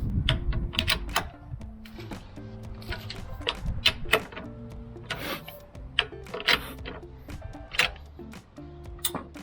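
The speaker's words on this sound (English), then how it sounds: "The torque wrench indicator clicked." A torque wrench is tightening the top right rear cylinder head bolt while GIVI TN6415 crash bars are fitted to a 2023 Triumph Tiger 900 GT Pro. Many sharp mechanical ticks and clicks come at an irregular pace, close and fairly loud, with no talk.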